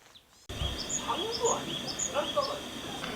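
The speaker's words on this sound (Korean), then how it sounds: "새소리가 참 듣기 좋았습니다" Birds call and chirp in short, scattered bursts at a winter campsite, moderately distant over a steady background hiss.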